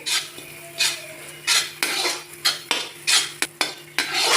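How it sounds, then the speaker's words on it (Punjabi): A spoon stirs and scrapes masala for bhindi in a kadai, making repeated rhythmic metallic scrapes and clinks under a steady light sizzle of roasting spices, loud and close, with no voices. "ਇਸ ਨੂੰ ਆਪਾਂ ਚੰਗੀ ਤਰ੍ਹਾਂ ਭੁੰਨਾਂਗੇ ਮਸਾਲੇ ਨੂੰ ਆਪਾਂ ਲਗਾਤਾਰ ਭੁੰਨਾਂਗੇ ਹਿਲਾਵਾਂਗੇ"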